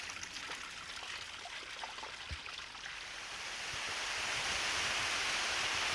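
A mountain stream high in the Alta Val Cimoliana gives a steady, close broadband rush of flowing water with no voices, growing louder and fuller toward the end.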